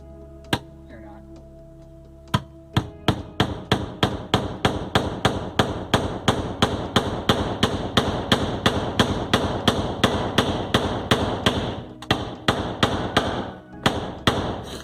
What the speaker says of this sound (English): The problem is when I hit, the board bends, and it's just like trying to hammer something on a trampoline.